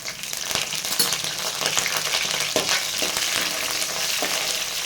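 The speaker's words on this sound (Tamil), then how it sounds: "கூடவே கருவேப்பிலை சேர்த்துட்டு இது நல்லா வதக்கி விட்டுக்கோங்க" Shallots, garlic cloves, pepper and curry leaves sautéing in a pan for a village-style ground-masala fish curry, with a steady close hiss of frying and occasional soft stirring scrapes, no voices.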